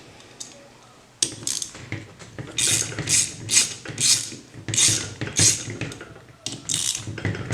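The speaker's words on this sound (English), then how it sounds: "So we'll start by removing these 4 bolts." A ratchet wrench loosens the mounting bolts on an air conditioning compressor in a heating and air conditioning lab, giving close, repeated metallic clicking bursts in a steady rhythm.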